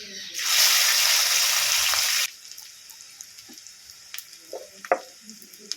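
Oil sizzling loudly in a pan after onions are added for a Bengali jackfruit seed dish, a bright steady frying hiss for about two seconds that then drops to quiet kitchen clinks and taps.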